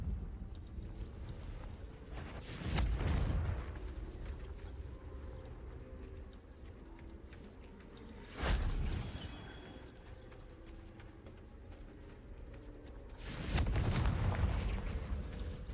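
Confringo fire-blast spells in Hogwarts Legacy burst three times, each a deep, rumbling whoosh and boom that swells and fades over a second or two, spaced several seconds apart over a low ambient bed.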